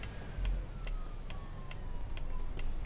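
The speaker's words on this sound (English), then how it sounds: "Is there an ambulance coming this way?" An ambulance siren wails faintly in the distance in the bus simulator game OMSI 2, its sliding tone running under regular ticking clicks and a low engine hum, with no talk over it.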